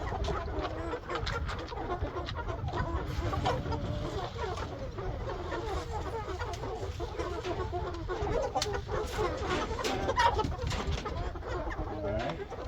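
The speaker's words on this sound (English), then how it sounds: "All right, chickens coming in." Chickens cluck and chatter as they come into a farm coop, mixed with other bird calls over a steady close barnyard background, with a person talking now and then.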